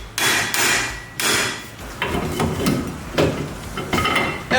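Loud, sharp metallic hammer blows driving an axle into place on a 1965 Ford Mustang, striking several times in an uneven rhythm, close up, with scraping between strikes.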